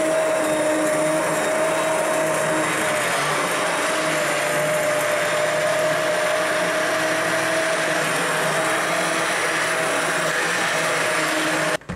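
A hand blender whirs steadily through corn chowder with potatoes, a loud, even motor drone held nearly unbroken for about twelve seconds before it cuts off at the end.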